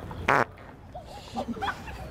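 A single loud, buzzy fart rings out near the start, followed by a quieter stretch with faint voices and laughter-like sounds in a try-not-to-laugh fart challenge.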